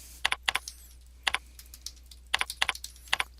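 Keys on a computer keyboard clack in short bursts of rapid strokes separated by pauses, close and fairly quiet over a steady low hum, with no talking.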